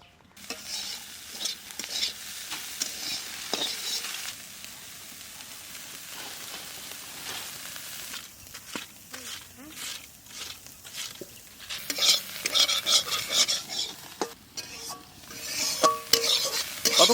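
Prawns stir-fried in a pan give a continuous close hiss of frying oil, broken by repeated scraping and clacking of a spatula against the pan, with the sizzle swelling louder and brighter in the final seconds.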